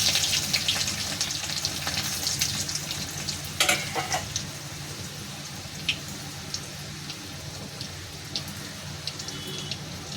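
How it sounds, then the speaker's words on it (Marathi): Cumin seeds sizzling in hot oil in a pan, a continuous close crackling fry with occasional sharper pops and spatters. "तेल तापलं आपलं आता थोडंसं जिरे टाकून घेऊ"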